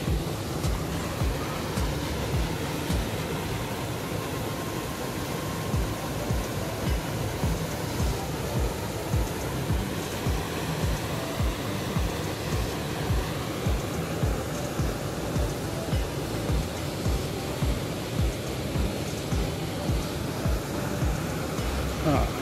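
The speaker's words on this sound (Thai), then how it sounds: "ที่นี่น้ำตก" A waterfall in Mae Wong National Park roars as a steady, dense wash of rushing water, continuous and fairly loud throughout the outdoor scene.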